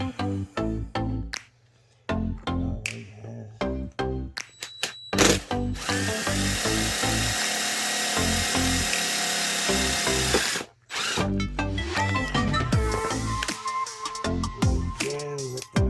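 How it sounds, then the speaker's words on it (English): A unibit drills through a thick motorcycle kickstand in short bursts, the motor whining and grinding into the metal with pauses and starts, one long sustained cut in the middle, close and loud. "now I gotta drill a hole through this kickstand"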